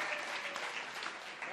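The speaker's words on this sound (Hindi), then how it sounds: "बहुत बजाओ उनके नाम से भी ताली।" Audience applause at a mushaira poetry gathering in Pulgaon, Wardha, a steady dense clapping from a crowd lasting the whole short stretch, with a voice faintly audible underneath.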